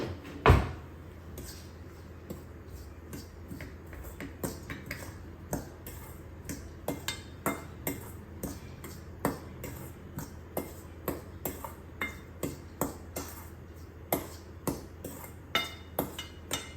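A spoon or utensil knocks steadily against a bowl while thattai snack ingredients, including asafoetida, are stirred together, giving a rhythmic series of sharp, close clinks with one louder strike near the start.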